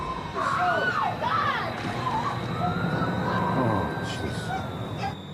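Rescue truck sirens wailing in rising and falling sweeps over a constant rushing background, heard at moderate distance while people talk over them.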